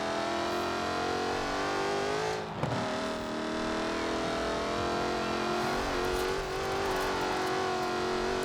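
Ford Racing Puma engine in the Forza Horizon 4 racing game, a steady high-pitched race-car drone held under throttle with a brief dip and recovery, loud and continuous, no talk.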